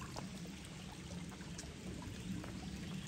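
A creek crossed on the Appalachian Trail flows steadily: a continuous broadband rush and trickle of water, close and even, with no voices.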